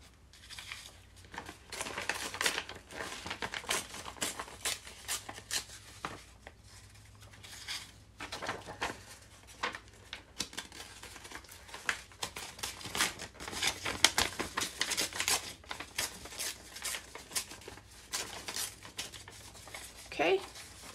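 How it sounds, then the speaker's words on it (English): Stained paper for a junk journal is ripped and handled in repeated short bursts of tearing and crinkling, close up and moderately loud, with pauses between rips and no one speaking. "let's just rip some of this stained up paper."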